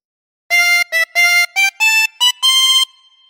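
Chromatic harmonica playing phrase seven of Pop Goes the Weasel: seven clear, reedy notes in a short rhythmic run, close and loud, stepping upward in pitch with brief gaps, played solo.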